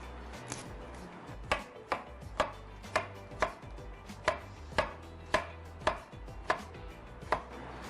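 Red onion being chopped on a cutting board, a run of about a dozen sharp, evenly spaced knife strikes, close and clear, with no talk.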